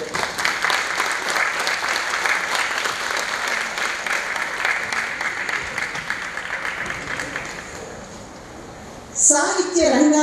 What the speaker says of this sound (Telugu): రెండు చేతులతో చప్పట్లు చరిచి ఆనంద నీరాజనాలు అందిద్దాం